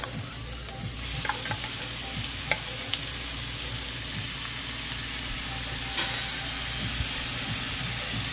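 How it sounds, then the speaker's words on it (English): Whitebelly shrimp sizzling in a hot pan for a Guyanese stew, steady broadband frying hiss with scattered scrape and stir clicks, near and continuous, no talking. "And now we'll put in our shrimp."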